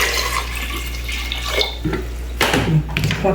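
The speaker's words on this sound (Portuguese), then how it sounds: "Eu vou colocar água." Water running from a kitchen tap into a cooking pot, a loud steady splashing stream close by, rising in intensity partway through, with no talking.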